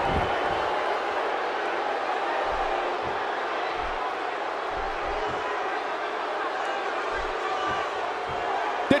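Large wrestling arena crowd at NXT Takeover: Brooklyn, a sustained loud roar of cheering fans filling the space, steady throughout with occasional sharper bursts.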